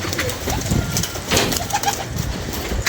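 Pigeons coo in soft repeated throaty calls, close by, amid scattered rustling and background noise, with no clear speech.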